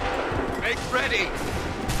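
Musket volleys crack out in Assassin's Creed 3 Remastered, dense overlapping gunfire bursts packed into two seconds, loud and continuous, with shouted commands mixed in.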